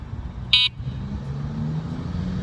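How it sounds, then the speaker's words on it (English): A SAMEBIKE folding e-bike's horn gives one short, high electronic beep, alone over a low background rumble of road noise. "Let's have a listen to the horn"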